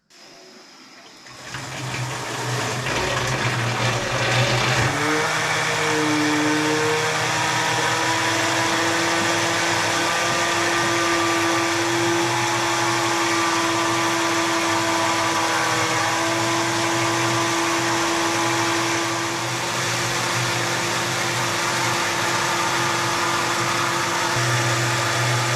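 A micro hydro Pelton wheel turbine, a 1075 runner fed by a 0.410-inch nozzle at 12 volts, spins up from silence into a loud, steady rushing water jet with a sustained whine, running alone without talk.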